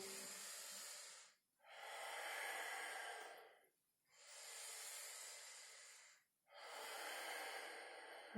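Deep yoga breaths during a flowing practice, four long airy exhales and inhales in a slow even rhythm, close and fairly soft, each separated by a short pause with no talking.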